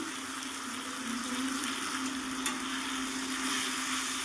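A paste of ginger, garlic, cumin, coriander and green chili hitting a hot pan for an egg and cauliflower curry, giving a steady broad sizzle with a faint hum underneath and one small knock midway.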